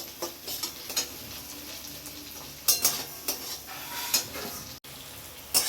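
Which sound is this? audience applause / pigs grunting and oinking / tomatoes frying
tomatoes frying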